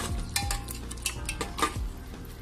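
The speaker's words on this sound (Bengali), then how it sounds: "মশলাটাকে আমি ভালোভাবে কষিয়ে নিচ্ছি" Spice paste for mutton rezala being stirred and fried in a pot, with several sharp scrapes and knocks of a spoon against the metal at irregular intervals over a low background, no talking.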